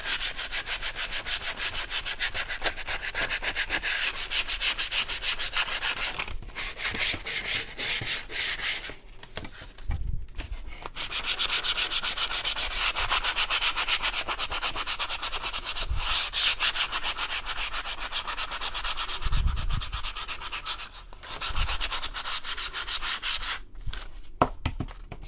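Pieces of a painted wooden barn door are hand sanded on a tabletop, a continuous close rasping scrub with steady back-and-forth strokes and a few brief pauses and knocks, no voices.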